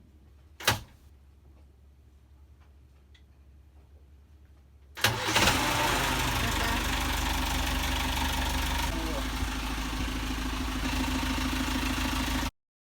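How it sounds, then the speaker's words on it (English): A boat engine out at sea in the Bahamas, its starter jump-started: after a faint early clunk and quiet, the engine cranks, catches and settles into a loud, steady running drone with a slight knock, ending abruptly. "now they're going to try and just jump start the starter to make sure that that is indeed working"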